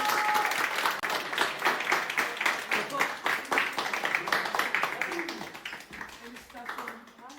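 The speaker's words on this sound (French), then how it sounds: "je vous ai tous réunis juste pour que, en fait, on puisse tous applaudir Anis" A small group gathered indoors claps together to celebrate passing 1.1 million Snapchat followers, brisk close applause that gradually thins and fades, with people talking over it toward the end.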